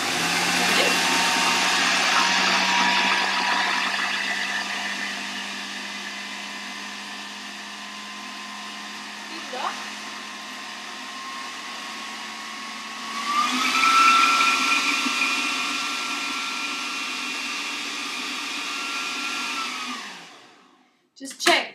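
A kitchen mixer churns muffin batter for low-carb cream cheese muffins at low speed, a steady whirring hum that rises in pitch partway through, then winds down and stops with a few clicks.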